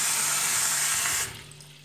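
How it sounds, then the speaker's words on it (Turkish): Tap water gushes steadily into a sink while tomatoes are washed for pickling, then the flow cuts off abruptly and leaves a quieter trickle, close and alone. "Şimdi domateslerimizi yıkayarak işe başlayalım."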